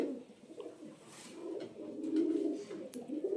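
Teddy pigeons coo in low, throaty, rolling calls, continuous and close, with faint background rustling.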